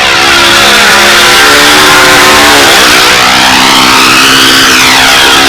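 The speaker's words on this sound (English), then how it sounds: "it looks like a nice steady running motor though" An RCV model aircraft engine runs rich in flight, a loud, steady buzzing drone whose pitch shifts smoothly as the plane passes overhead.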